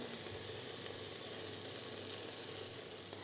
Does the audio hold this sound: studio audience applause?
no